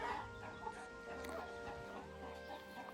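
A Chinese silkie hen sitting on eggs in a henhouse clucks softly and intermittently, faint and close, over a low steady background hum.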